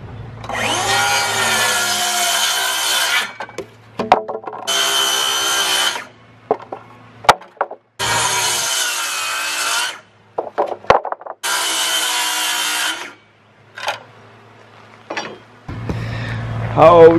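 A wooden board is pre-cut for a potato tower with four long, rasping saw strokes, each lasting a second or two and separated by short pauses filled with light knocks and handling noises, close up.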